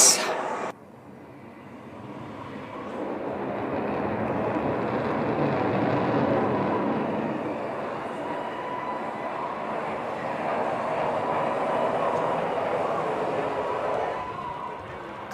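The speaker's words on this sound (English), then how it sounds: "The aircraft will come for a very tight offensive turn" Tejas fighter jet passing over Marina Beach in Chennai during an Indian Air Force air show, a broad sustained engine roar that swells and holds for most of the span, heard from a distance with crowd and announcer ambience around it.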